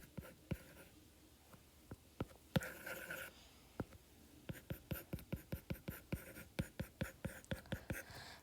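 A thick pen writes on paper during a lecture, making quick scratchy strokes close to the microphone, sparse at first and then a dense rhythmic run of short taps and scrapes, with no talking.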